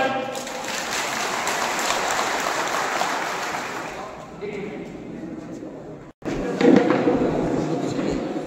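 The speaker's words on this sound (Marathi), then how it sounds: "एक हातवरती आणि जोरदार टाळी." Loud crowd applause and cheering at a village political rally for an assembly election campaign, a dense sustained roar with a brief break before it swells again.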